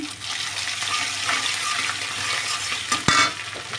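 Ginger-garlic paste drops into a hot frying pan for beef, giving a steady broadband sizzle with a sharp splattering burst near the end, close and moderately loud, no voices.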